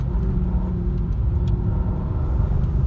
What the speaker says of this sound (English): I'm just gently touching the throttle right now, by the way.